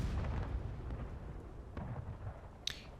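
Cannon artillery fire in a large multiplayer video game battle, with Union guns shooting into a forest: low rumbling booms from the distance, several overlapping shots and one sharper crack near the end.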